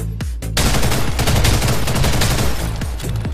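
Sustained automatic rifle spray fire in a first-person shooter video game, a loud, dense stream of rapid gunshots following a couple of separate opening shots, running steadily with no talk.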